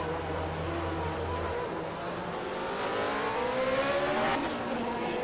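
Race cars battling wheel to wheel in a sim racing game, engines droning and revving steadily as they run close together, with a commentator's voice faintly under the engine noise.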